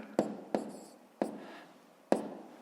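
Pen on paper writing out the numbers of a column multiplication of 1.4 by 2.5, four sharp, close taps and scratches spaced irregularly with soft scraping between them, no talking.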